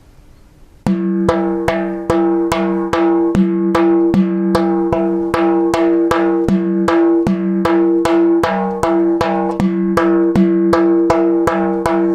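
A frame drum plays a steady, even pattern of deep bass strokes and ringing treble strokes, about two hits per second, close and alone.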